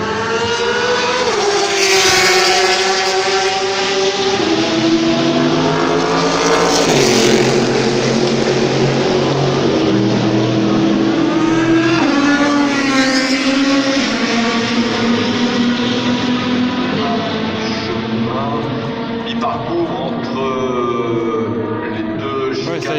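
Porsche and other race cars on track during the 2019 24 Hours of Le Mans test day, their engines roaring loudly and continuously, with several pitch-sweeping pass-bys rising and falling close to the listener.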